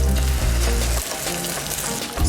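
Eggs frying in a pan with potatoes, a loud steady sizzle right up close, with a brief heavier crackle at the start before settling into constant frying hiss.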